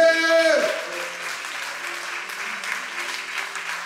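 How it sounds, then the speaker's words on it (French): A church congregation at a revival seminar bursts into steady, close clapping, with a voice ringing out briefly at the start before the applause carries on evenly. "Applaudissez!"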